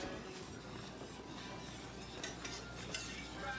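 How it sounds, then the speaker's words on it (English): A utensil is stirred through a thick flour mixture in a pot in a home kitchen, with soft scraping and light clinks against the pot over steady low background noise. "Bryn's doing some stirring here too"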